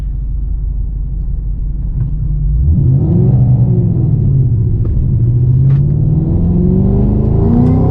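A car engine fitted with an upgraded throttle body rumbles low, then accelerates hard with a rising, whirring engine note, loud and close throughout, with no talking.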